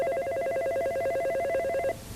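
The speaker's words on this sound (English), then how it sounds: "The phone can be answered without being touched. 1 ring," A 1980 Northern Telecom SL1 hospital telephone rings once with an electronic warbling trill that lasts nearly two seconds, steady and clear, then stops abruptly.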